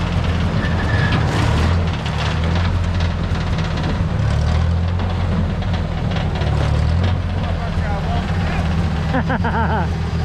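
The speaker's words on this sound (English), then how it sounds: "Tractor pushing a 50s truck." A tractor pushes a 1955 GMC 370 truck, a loud, steady low engine drone and rumble running throughout with a few brief voices and clanks over it.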